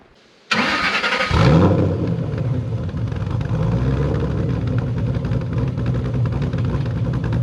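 Cammed Shelby GT500 V8 cranking over and firing up with a loud bark, then settling into a lumpy, choppy idle that rumbles steadily and close by.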